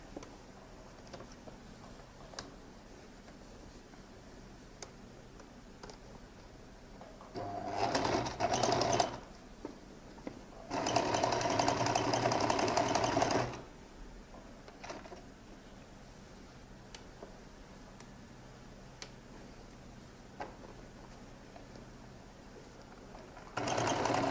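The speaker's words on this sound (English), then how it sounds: "So I'm going to top stitch on the main body here up to that slash there." A sewing machine top stitching the lining of a lady's jacket runs in two short bursts of rapid, even stitching, separated by quiet pauses with light handling clicks.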